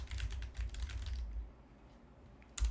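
Rapid typing clatters on a gaming keyboard, a close, busy run of keystrokes that stops partway through. A short burst of typing returns at the very end.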